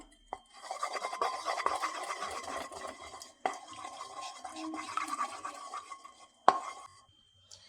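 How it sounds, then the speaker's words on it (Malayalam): Two egg yolks are whisked in a pan, making a fast, continuous scraping and tapping clatter that runs in bursts with short pauses and a sharp clink near the end, close and moderately loud. "രണ്ട് മഞ്ഞയും ഒരു പാനിലേക്ക് മാറ്റി വെച്ചു ഇത് നന്നായിട്ടൊന്ന് മിക്സ് ചെയ്ത് കൊടുക്കാം"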